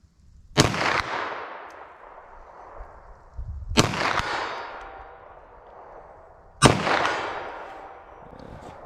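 Three sharp 9mm pistol shots with T-Series rounds during a ballistic test, spaced about three seconds apart, each a loud close crack followed by a long ringing decay.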